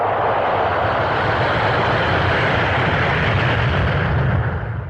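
An airplane roars loudly and steadily overhead in an action film scene, a dense, continuous engine rumble with no pauses and no voices.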